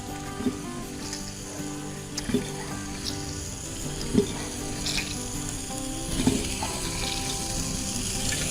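Continuous sizzling of hot oil in a tempering with occasional soft knocks and splutters, as squeezed grated radish is added to the pan.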